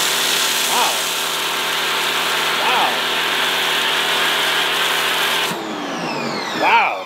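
A pressure washer drives a steady, loud hiss of spray through an MJJC foam cannon fitted with a 1.1 mm orifice, the spray continuing for about five and a half seconds before cutting out, while a voice exclaims briefly several times.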